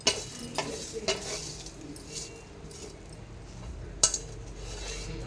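Kalamak pachadi ingredients frying in a pan, with a spoon stirring and scraping in uneven strokes, a couple of sharper metal clinks over a low sizzle, nearby and without speech.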